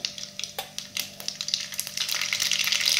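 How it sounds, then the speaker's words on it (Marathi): Mustard seeds crackle and sizzle in three spoons of hot oil in a kadhai for a rustic black-masala brinjal curry, a dense run of close sharp pops that builds into steady frying hiss toward the end. "आता यामध्ये थोडीशी मोहरी टाकून घ्यायची आहे।"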